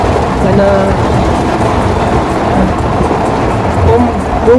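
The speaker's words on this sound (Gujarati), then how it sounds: "વરસાદ આવતા ચાલુ થઈ ગયો છે" Steady rain falling during a vlog visit to a temple site in a Gujarat village, a loud continuous hiss with faint distant rumbles underneath.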